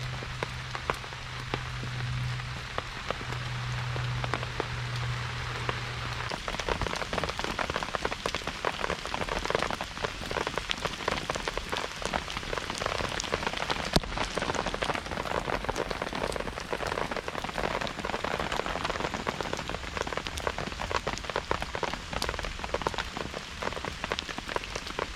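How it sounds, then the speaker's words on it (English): Heavy rain pounds steadily on a cheap Ozark Trail dome tent during Storm Babet, a dense, continuous patter close overhead that never lets up, with a faint low hum early on and no talking. "It rained non-stop all day and all night,"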